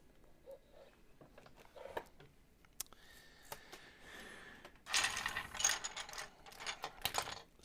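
A camera lens is taken apart by hand, giving quiet, scattered mechanical clicks, ratcheting ticks and small metallic scrapes from the lens parts, with a brief busier rattle near the end.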